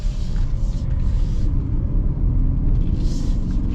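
Steady low drone of a 2022 Lincoln Corsair Grand Touring plug-in hybrid's CVT heard from inside the cabin while driving, a continuous rumble with faint higher whine swelling briefly, no talking.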